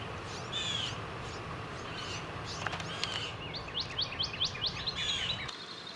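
Young Bewick's wrens forage with their parents at a refuge, giving a run of short, high chirps and chattering calls that grow busier toward the end, heard at moderate distance over steady low outdoor rumble.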